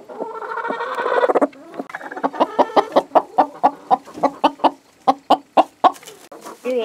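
A hen clucks close by, starting with a drawn-out squawk and then settling into a steady run of short, evenly spaced clucks, with no talking.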